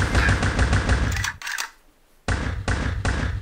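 Heavy .50-caliber machine gun fire in the video game Block Fortress: loud rapid bursts, a sustained stream, a brief gap, then another dense burst close up, with no talking.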